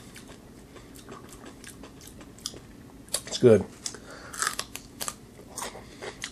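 Close, crisp crunching bites of salty fermented celery with a ginger flavour, a few short crunches clustered midway, with a brief spoken comment from the eater.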